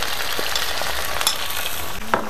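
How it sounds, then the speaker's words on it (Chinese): Soybean paste fries in hot oil in a pot, making a dense, steady sizzle with a few faint stirring scrapes and no talking. "大酱能淌锅点就淌锅里，淌油里点，煎出点酱香味儿"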